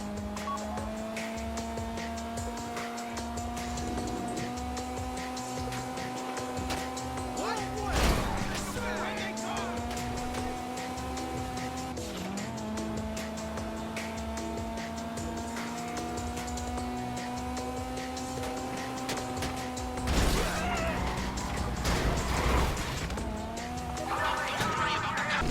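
Car driving in GTA during a getaway: a steady engine drone with audible gear shifts holds throughout, broken by a couple of brief crash or scrape bursts, with voices speaking over it at times.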